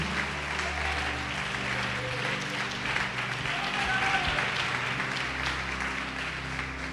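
A church congregation applauds the Lord during a Portuguese-language sermon on faith and prayer, a steady broadband wash of clapping held at even loudness for the whole stretch, with a faint low hum beneath.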